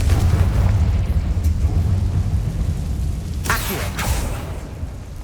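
A Confringo blasting curse explodes in Hogwarts Legacy: two sharp, bright bursts land close together over a steady low rumble of background game noise.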